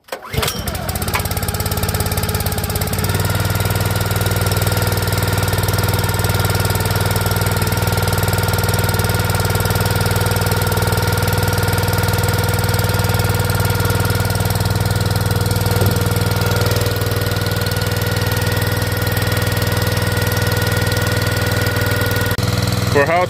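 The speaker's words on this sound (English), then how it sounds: "For how cheap these Predator engines are, they are pretty impressive." A small Predator gasoline engine on a log splitter runs steadily after a cold morning start, a loud, even mid-pitched drone holding throughout after a brief sputtering start.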